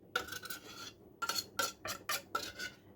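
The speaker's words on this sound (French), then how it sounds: "je vais mettre toute la boîte de thon à l'huile" Metal utensil scrapes and taps against a tuna can and bowl while oil-packed tuna is emptied out, a series of short gritty scraping strokes in quick irregular bursts, close and fairly quiet.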